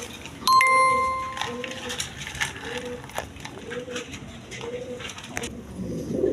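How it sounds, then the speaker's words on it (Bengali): Kashmiri reshar pigeons cooing in a loft, soft low repeated coos in a steady rhythm, with a bright ring near the start and light background clatter, a voice speaking faintly. "এখানে এক পেয়ার রেশার কাশ্মীরি রেশার কবুতর আছে"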